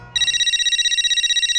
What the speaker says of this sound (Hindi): माधवी का फोन